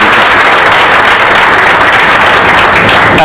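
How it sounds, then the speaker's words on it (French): An audience applauds entrepreneurs at a sixth-edition success-stories gathering, loud, dense clapping that fills the whole moment evenly and never lets up. "je voudrais que vous les applaudissiez."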